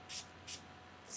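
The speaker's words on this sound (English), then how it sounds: "spray it with heat protectant," Heat protectant sprayed onto hair from a spray bottle, two short hissing bursts about half a second apart and a third starting at the end, close and soft.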